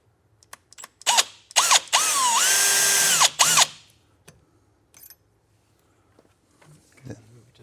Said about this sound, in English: I'm probably gonna have to drill a little bit tighter pilot